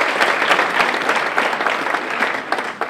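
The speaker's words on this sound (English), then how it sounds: "give them a round of applause," Dense, steady applause from a large motivational-seminar audience greets the team being introduced on stage, a continuous wash of many hands clapping close and loud.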